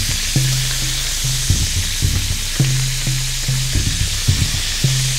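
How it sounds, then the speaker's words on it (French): Meat taken off skewers searing over high heat in a very hot pan with olive oil, a loud, continuous close sizzle punctuated by regular low knocks as the pieces are stirred. "Quand la poêle est brûlante, jetez-y la viande et faites cuire à feu vif."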